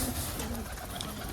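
Young pigeons coo in a newly opened loft, a short burst of soft throaty calls over a steady, noisy background.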